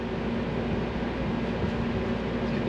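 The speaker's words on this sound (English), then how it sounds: "The noise you hear is my air conditioner running." Air conditioner running in a hot home garage, a steady, low, broadband droning hum with no changes, moderately loud and continuous throughout, no talk.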